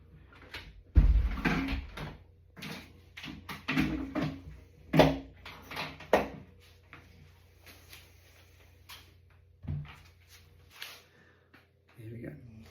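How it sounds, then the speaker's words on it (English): A back door in a home kitchen shut with a few knocks and clunks, mixed with footsteps and household movement, while a person talks nearby. "Just shut that back door."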